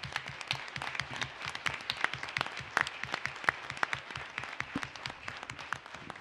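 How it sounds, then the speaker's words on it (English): A modest group at a city council meeting claps steadily, with individual sharp hand claps standing out over a continuous patter of applause. "And let's hear a round of applause for Commissioner Taggart."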